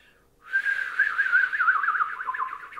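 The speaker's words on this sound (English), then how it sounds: "One thing I do to practice these is whistle with that similar movement in my tongue." A person whistles a single sustained tone that wavers and warbles up and down as the tongue shifts, starting after a brief pause and continuing close and clear to the end.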